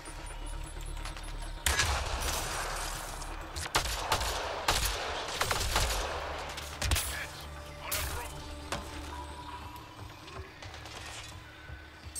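Rapid bursts of gunfire from the Mass Effect Andromeda video game, shots cracking out in clusters over a steady game soundscape, loud and close, with someone talking at points.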